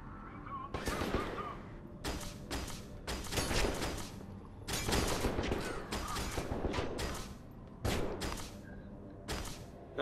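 Enemy gunfire in the shooter game F.E.A.R. 2: Project Origin, with repeated loud bursts of automatic fire in uneven clusters, close and sharp, separated by brief lulls.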